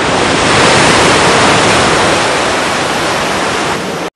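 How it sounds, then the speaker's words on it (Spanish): A powerful wave crashes over a ship's deck as a loud, continuous roar of rushing water that fills the whole stretch and cuts off abruptly at the end. "una poderosa ola barre la cubierta"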